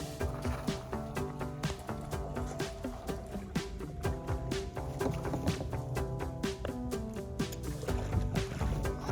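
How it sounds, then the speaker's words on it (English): The thrusters of a 3D printed autonomous boat on a lake, picked up by the onboard camera, give a steady mechanical drone with sharp repeated knocks and water sloshing close against the hull. "You can hear the sound of the thrusters through the onboard camera."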